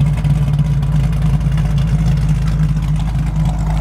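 1968 Chevrolet Camaro SS with a ZZ502 big-block V8 idling cold without choke on a 25-degree day, a loud, deep, steady rumbling idle with a lumpy pulse, close up and alone.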